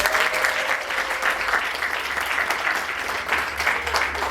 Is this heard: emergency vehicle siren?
no